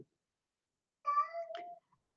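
A house cat meows to be let out, giving one drawn-out, rising and falling meow with a short trailing chirp, close and clear in an otherwise quiet room.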